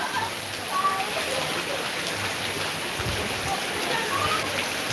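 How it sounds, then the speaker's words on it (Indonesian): Rain pouring down in Mantang, Lombok, a continuous broad patter and hiss of drops with a few splashes, steady throughout, with faint voices in the background. "Hujan guys"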